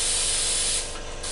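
Airbrush spraying Tamiya flat white paint in a steady, close, continuous hiss that dips slightly near the end before resuming.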